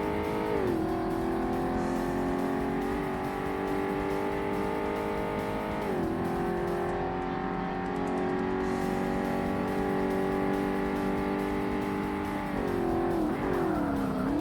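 A race car in Forza Motorsport on Xbox holds a loud, steady engine drone close up, with a few sharp dips and climbs in pitch as it shifts gears and slides through turns.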